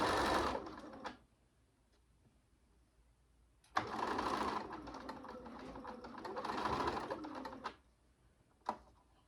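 A sewing machine sews the side seam of a drawstring bag and backstitches a few stitches. Close, moderately loud whirring bursts start and stop: one short run, then a longer run with a brief dip, then a final quick tap.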